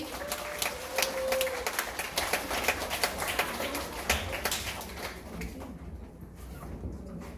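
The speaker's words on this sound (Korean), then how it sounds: "나오실 때 모두 박수!" Children applaud at a church service, a dense burst of many small hands clapping that goes on for several seconds and then thins out toward the end, with a few faint voices mixed in.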